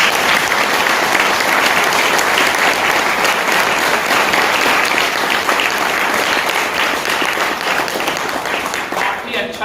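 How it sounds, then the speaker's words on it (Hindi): A large audience breaks into loud, sustained applause, dense and continuous clapping filling the whole stretch at close range, thinning slightly toward the end, during a motivational success-story event. "इसलिए भी एक जोरदार तालियां होगी।"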